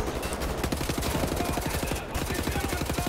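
Enemy gunfire in the shooter Wolfenstein: The New Order, a steady rapid automatic rattle of shots, loud and continuous for the whole few seconds with no pauses.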